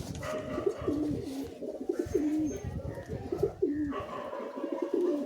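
Pigeons coo steadily at close range, repeated rolling coos overlapping one another while the long-flying birds are handled and shown by hand in a home loft.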